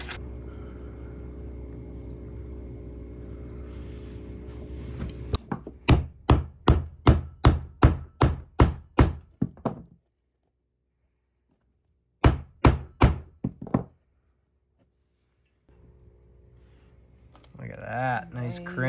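A lug is crimped onto wire with a hammer crimper during a solar power upgrade. A fast run of about a dozen sharp metallic strikes is followed by a pause and then a shorter burst of four, all close and loud, with low hum before and after.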